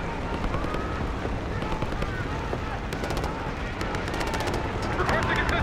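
Heavy, continuous gunfire and explosions in a Call of Duty Black Ops 6 battle near a helicopter, a dense wall of rattling shots and booms with a voice talking over it.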